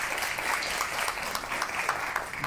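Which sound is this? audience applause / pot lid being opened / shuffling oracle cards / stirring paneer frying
audience applause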